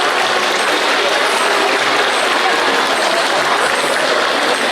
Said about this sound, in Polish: I brawa dla babci i dla dziadków.